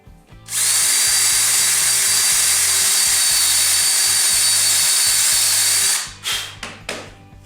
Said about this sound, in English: Now I'm going to drill a 3/8 inch hole in the center for the woodworm screw.